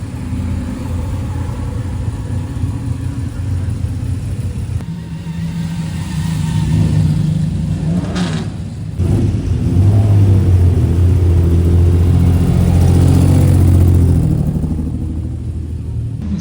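Glickenhaus hypercar road car engine revving at a luxury car event, a loud low rumble that swells and climbs in pitch, dips briefly, then surges again into a sustained roar amid outdoor crowd ambience.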